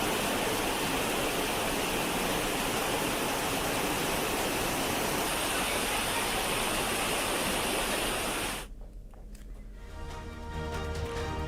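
The Sirvel Mahadev waterfall in Khargone, swollen by torrential monsoon rain, roars as a dense, steady rush of water for about eight seconds before the sound abruptly drops to a quieter, different scene.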